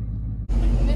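Inside a moving car, a low engine and road rumble fills the cabin, with people talking over it.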